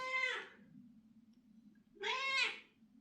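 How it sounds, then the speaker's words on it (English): Two drawn-out meows from a nearby house cat, separated by a pause of about a second and a half, over a faint low background hum. "This fucking cat."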